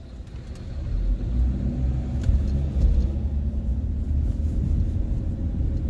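A big tractor at a road repaving site in Philadelphia rumbles past, a heavy, steady low engine drone that stays loud and close throughout with no talking.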